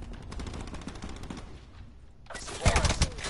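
Gunfire in Black Ops 4 gameplay: a busy stretch of scattered in-game shots and effects, then a louder close burst of rapid automatic fire near the end.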